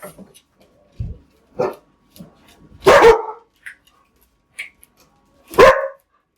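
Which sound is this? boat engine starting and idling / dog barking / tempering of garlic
dog barking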